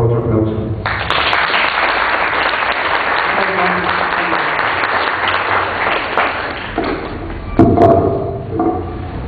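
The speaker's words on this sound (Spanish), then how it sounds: "por favor otro aplauso" Sustained audience applause at a lecture-style conference, steady dense clapping that carries through most of the stretch before tapering, with a few louder claps and voices near the end.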